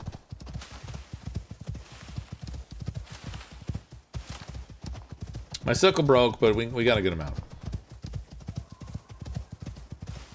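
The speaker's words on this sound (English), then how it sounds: "Llama go clop clop" Llama hooves clip-clop in Icarus: New Frontiers, steady rhythmic clopping running through most of the stretch while someone talks, with a brief whinny-like call in the middle.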